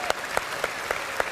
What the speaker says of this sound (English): Give Mummy a round of applause.